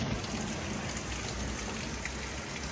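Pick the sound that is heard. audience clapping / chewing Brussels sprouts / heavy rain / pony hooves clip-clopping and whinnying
heavy rain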